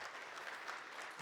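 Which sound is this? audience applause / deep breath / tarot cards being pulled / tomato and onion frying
audience applause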